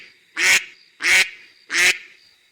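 Ducks in a duck house give three loud, evenly spaced quacks, each a short, harsh, nasal burst close by, with near silence between them.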